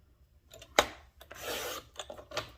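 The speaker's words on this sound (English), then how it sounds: "before I cut that, I'm going to cut a couple of slivers off first" Cardstock being cut into thin slivers with a paper trimmer, giving a sharp snap followed by short scraping glides, close and fairly quiet with no talking.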